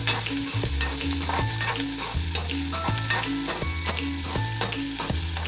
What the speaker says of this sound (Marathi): त्यानंतर कढीपत्ता आणि मस्त असा कांदा आपण आता तेलात फ्राय करून घेणार आहोत.